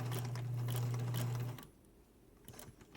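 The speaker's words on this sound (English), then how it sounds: "Then you lower your presser foot. And you're going to do, 5 or 6 stitches." A sewing machine fitted with a quarter-inch narrow hemmer foot runs a short burst of stitches, a steady close whir for about a second and a half, then stops, leaving faint handling noise.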